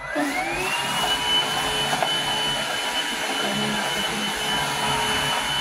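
A vacuum cleaner runs continuously at close range with a steady high-pitched whine and broad rushing airflow, holding an even level throughout, with faint indistinct sounds in the background.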